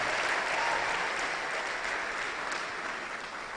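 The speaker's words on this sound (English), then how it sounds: "we will give another round of applause to Her Excellency, Dr." Round of applause from a conference audience at an international conference on African development issues for Dr. Joyce Banda, a sustained, even crowd clapping that tapers slightly at the end.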